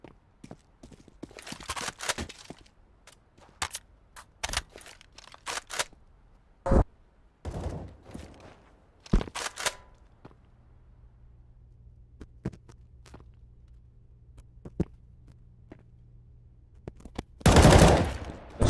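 Bursts of gunfire in a Counter-Strike pro match at a Dallas Major grand final: sharp, loud shots and short volleys scattered across the clip, with quiet gaps and a low hum, ending in a dense loud burst.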